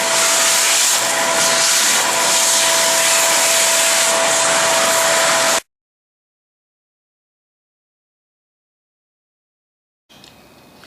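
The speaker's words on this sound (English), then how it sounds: "Now we just go ahead and vacuum up all of the dust in preparation for putting the insulation into the brick wall." A vacuum cleaner sucks up dust from a brick window frame opening during a vinyl window installation, roaring loud and steady for about five seconds before cutting off to silence, with a brief faint return near the end.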